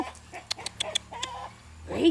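Chickens cluck nearby outdoors, giving a burst of short, sharp clucks in an uneven rhythm at moderate loudness over a low background hum. A louder sound rises at the very end.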